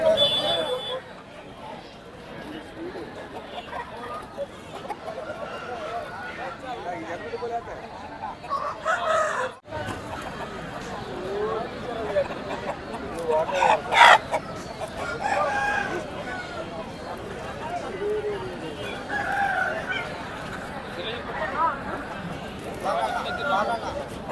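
Country chickens cluck and a rooster crows repeatedly amid a noisy, crowded outdoor poultry market in Anakapalli district, with people talking throughout.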